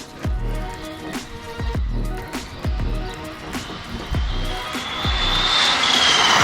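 An Arrma Typhon 6S RC car's electric motor whines and surges in repeated throttle bursts, roughly one per second, close and loud, ending in a rising sustained whine.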